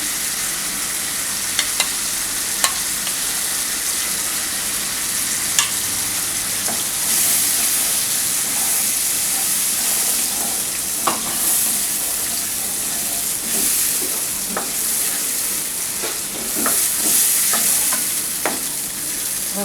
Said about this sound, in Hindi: और अब इसमें 3 चम्मच दही के डालेंगे।